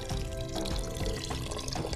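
Water is poured into a cooking pot holding rice on a gas stove, a soft continuous splashing and gurgling pour at moderate closeness, fairly quiet and steady for its short duration.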